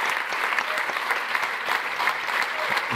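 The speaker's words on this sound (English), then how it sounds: "Gotta applaud." A crowd claps continuously at a performance at Ilguciema Kulturas Nams, a busy, even patter of many hands with a few sharper claps standing out.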